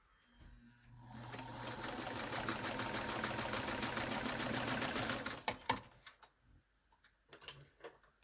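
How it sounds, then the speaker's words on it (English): A sewing machine stitches quilt squares along a diagonal line, a steady fast rattling hum running for several seconds close by, then stopping with a few clicks and handling knocks. "I'm going to take the sewing machine and I'm going to sew diagonally"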